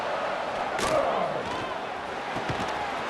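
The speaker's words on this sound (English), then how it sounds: "This Boise State crowd bringing the noise. It's deafening here on third down." A Boise State stadium crowd roars in a college football video game on third down, a dense, loud, sustained wall of noise that stays steady throughout.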